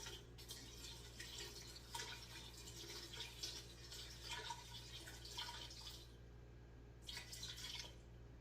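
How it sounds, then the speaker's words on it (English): Water is poured into a pot on a gas cooker while making groundnut soup, a soft splashing, trickling stream with intermittent bursts over a constant low hum, fairly quiet. "Then add water."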